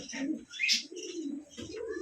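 An Iranian racer pigeon at a pigeon farm gives a brief run of close coos and chirps with some faint background voices.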